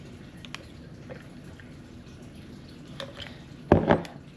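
Breastmilk being poured into a plastic storage bag, faint handling rustles and then a short close splash of liquid near the end.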